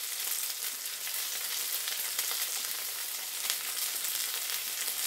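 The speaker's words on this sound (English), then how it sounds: "You can hear the sizzle." A gluten-free flourless cheese pizza sizzles in a lidded pan, giving a steady, close, continuous hiss and crackle of frying with no voices.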